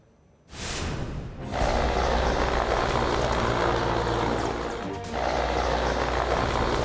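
A helicopter flying in fog just before a crash, a loud steady broadband rotor and engine roar that comes in abruptly and holds constant with a brief dip near the end, heard with no talk.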